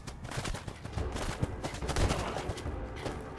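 Rapid bursts of gunfire from a sentry bot in Fallout 4, a dense, steady volley of shots with a few heavier impacts, loud and close throughout.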